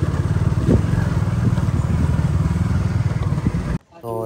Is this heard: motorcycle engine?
yes